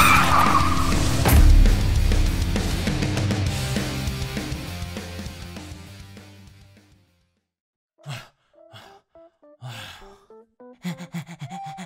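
A car brakes hard when someone darts out in front of it, tires screeching in one long, loud skid that fades away over several seconds. Short gasps and breathy sighs follow in the quiet.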